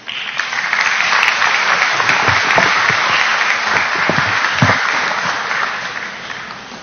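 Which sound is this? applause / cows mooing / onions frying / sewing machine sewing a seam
applause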